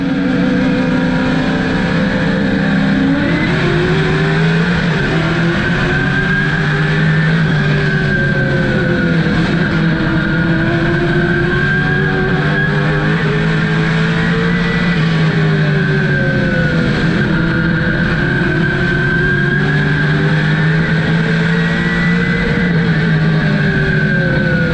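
Race cars lapping Hickory's oval track, a continuous loud roar of engines with rising and falling pitch as cars pass, steady throughout with no voices.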